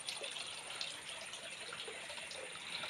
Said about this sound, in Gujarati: આ જે પાણી આવે છે તે પાણી જે છે ચાલુ જ રહે છે